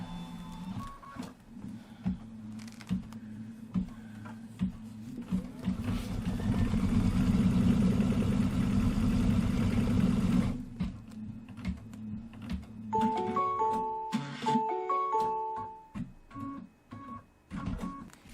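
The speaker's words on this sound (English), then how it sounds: "let's put the foot down and let's stitch out the tree bucket." Computerized embroidery machine stitching out a tree bucket design in red thread, a steady loud mechanical whirring and rapid needle chatter that swells midway, then gives way to beeps and clicks.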